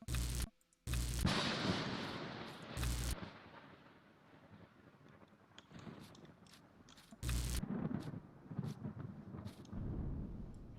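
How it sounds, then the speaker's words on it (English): Thunderstorm in the video game Empyrion: loud, sharp thunder cracks burst at intervals over a steady roar of rain and wind, with no voices. "guess there's a storm brewing outside"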